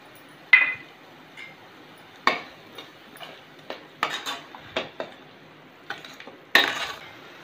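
Blended tomatoes with onion, ginger, garlic and masala are sautéed in a pan, heard as scattered sharp clinks and scrapes of a spoon against metal over a quiet background, with no talking.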